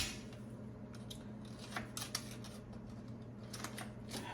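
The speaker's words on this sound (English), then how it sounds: "I'm just going to kind of cut it up into pieces here" A whole stick of butter is sliced into pieces with a knife, giving several short, close clicks and taps against a cutting surface over a steady background hum.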